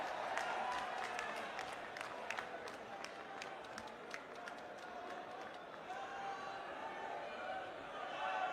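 A crowd at a constitution rally in Madhya Pradesh applauds to welcome Kharge, a steady, distant wash of clapping and crowd noise with voices mixed in throughout.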